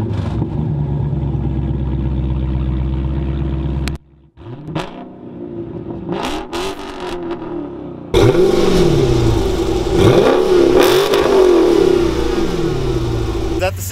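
Exhaust note of a 392 (6.4-liter) V8 engine, idling with a deep steady rumble, then blipped through sharp revs that rise and fall before louder sustained revving, with people talking nearby.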